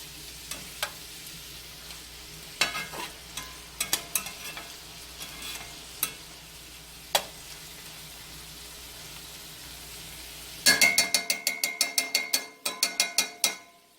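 Brussels sprouts fry in a cast iron skillet with a steady sizzle, broken by occasional clanks and stirring. Near the end comes a rapid run of loud ratcheting clicks.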